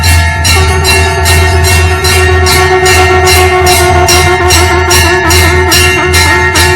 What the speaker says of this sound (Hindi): शंखनाद बजने जा रहा है